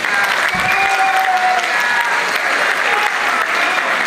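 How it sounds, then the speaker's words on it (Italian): Warm audience applause at a Women's Day theatre show welcoming the presenter, dense and steady clapping from a crowd throughout, with a brief cheer or whistle. "che accogliamo con un forte applauso"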